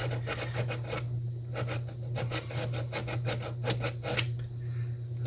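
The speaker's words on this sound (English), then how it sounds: "I'm just going to try to grind off that little gouge where that line was" A small tool grinds or files a gouge on a part of a 1966 Shakespeare No. 1766 Model EE spincast reel, giving a repeated rasping scrape in short strokes over a steady low hum.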